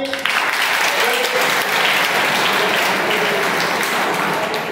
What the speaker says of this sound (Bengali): ওর জন্য একটা হাত তালি।